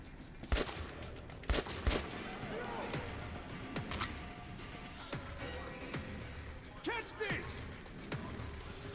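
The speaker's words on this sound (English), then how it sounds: "Oh god, they really like grenades in this one." Explosions and gunfire in Metro: Last Light Redux, with sharp thumping blasts punctuating a steady rumble of combat at moderate distance while a voice talks over it.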